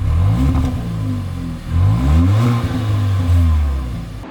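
A Kia K3 GT facelift with a 1.6 turbo engine revving through its sport exhaust, loud, close throaty rises and falls in several pulls, with no talking.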